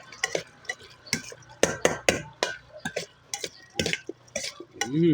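A spoon stirs Thai pork larb with sliced shallots in a pan, giving close scraping and clinking strokes in an irregular rhythm, with light sizzling between them.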